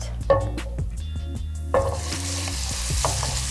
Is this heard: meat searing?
yes